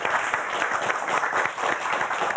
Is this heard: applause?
yes